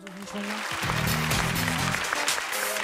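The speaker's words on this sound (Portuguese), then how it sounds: "Aplausos, aplausos." Studio audience applause on a Brazilian TV variety show, a busy patter of clapping laid over music and voices and sustained at moderate loudness for a few seconds.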